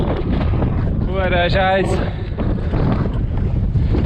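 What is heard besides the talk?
strong wind blowing on the microphone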